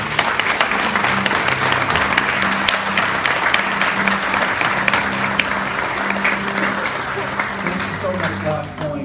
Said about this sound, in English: Can we give our great, awesome, mighty, wonderful God a great hand clap?